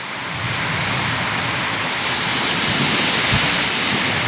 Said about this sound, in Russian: это вообще ветрище, дождь огроменный